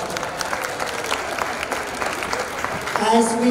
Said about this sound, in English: Let's give a round of applause to the Advancement Office.